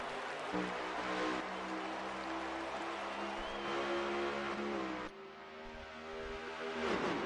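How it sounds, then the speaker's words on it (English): Engines of simulated race cars roar together as a racing video game's field takes the green flag at Pocono, a dense continuous revving drone that shifts pitch as the cars accelerate, with a brief dip near the end. "The green flag waves from the flag stand, and we are going green here at Pocono."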